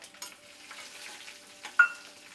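Dried red chillies sautéing in oil for an instant tamarind rice, a faint low crackle with one sharp clink of a spoon against the pan near the end.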